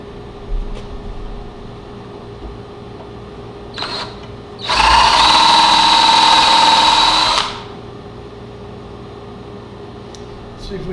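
A power drill bores into an oak chair, one loud steady burst of about three seconds rising above quiet room hiss, with a few faint taps before and after.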